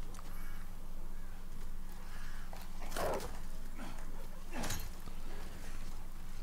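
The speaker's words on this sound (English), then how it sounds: "What else but dogs?" Dogs barking in Demon's Souls Remake on PS5, Boletaria area: a couple of sharp bark bursts, moderately near, over a low steady game ambience hum, with no talk.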